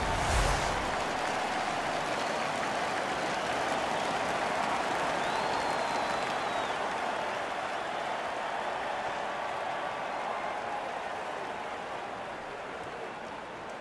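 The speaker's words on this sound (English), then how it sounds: "The home crowd is ecstatic." A home crowd roars and cheers in the NHL 15 hockey video game. The roar is loud and steady for the whole stretch, with a sharper burst at the very start.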